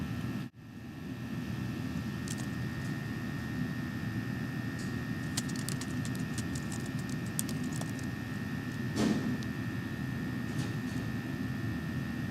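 Someone types on a computer keyboard while playing a Quizlet typing game: sparse, light key clicks in small clusters over a steady low background hum.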